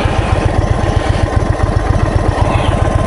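A 2021 Indian Chief Dark Horse motorcycle idles close by, its big engine thumping in a steady, loud low pulse with no voices over it.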